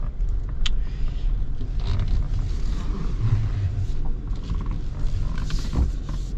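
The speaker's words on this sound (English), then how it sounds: "The seat does squeak a little bit." A seat squeaks and creaks inside a 2026 Chevy Silverado 1500 ZR2 Bison while it drives, with irregular creaks over a continuous low rumble of the moving truck.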